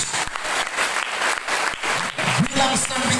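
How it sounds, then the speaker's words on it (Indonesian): Church congregation at an evangelistic revival service applauding, a dense wash of clapping and crowd noise running throughout, with voices and some music or singing rising toward the end. "Yang setuju berikan tepuk tangan yang terbaik buat Tuhan Yesus"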